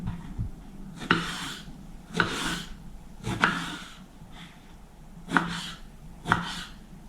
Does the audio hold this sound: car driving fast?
no